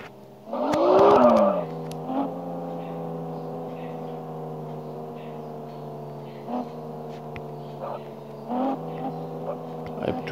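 Car in a mobile multi-level parking game, a steady synthetic engine hum holding even pitch with brief bumps and a louder burst near the start, no speech.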